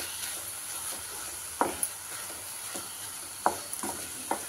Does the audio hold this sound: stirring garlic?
yes